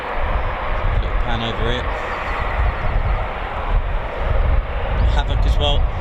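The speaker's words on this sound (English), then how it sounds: "should be some taxiing very, very shortly" Eurofighter Typhoon FGR4 jets at RAF Coningsby make a continuous roar and whine from the airfield, fairly distant, while a person talks briefly over it.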